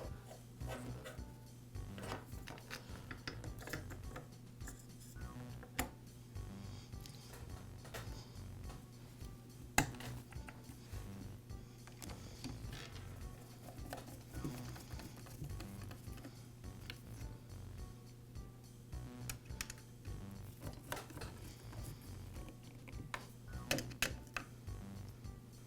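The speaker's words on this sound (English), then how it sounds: "Now install the oil pump." Small parts being fitted during reassembly of a Poulan chainsaw's oil pump, a quiet run of faint ticks, taps and rubbing clicks at irregular intervals over a low steady hum.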